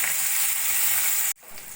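Chopped garlic cloves frying in a little oil in a wok, a loud, dense sizzle that runs steadily and then drops abruptly before resuming more softly.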